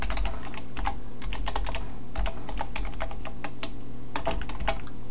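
Fast, steady typing on a computer keyboard while coding HTML and CSS, close and clear, with continuous key clicks and occasional heavier strokes over a low background hum.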